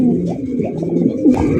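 Racing pigeon of the Kakji breed cooing in repeated low throaty rolls, close and fairly loud, with a few short calls overlapping.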